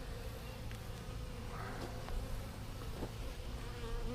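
Bees buzzing around a top bar hive that appears to have swarmed, a steady low droning hum of many insects with a few brief louder passes close by, no talking.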